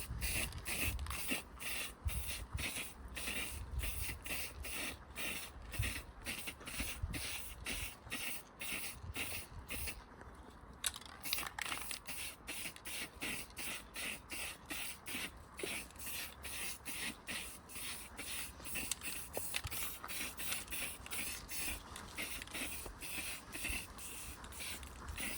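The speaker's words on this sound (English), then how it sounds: "I did another layer of white spray just to reinforce the white" A cheap white spray paint can sprays onto a Warhammer dwarf display board in rapid, regular short bursts, close and fairly quiet, with a brief pause near the middle.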